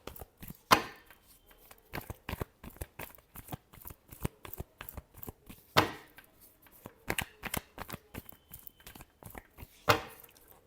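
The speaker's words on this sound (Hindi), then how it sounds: "Last shuffle." Tarot cards are shuffled in a steady run of fast, crisp riffles and flicks, close and fairly quiet, with a few sharper slaps standing out, and no talking.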